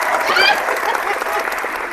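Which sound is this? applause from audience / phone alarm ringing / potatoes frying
applause from audience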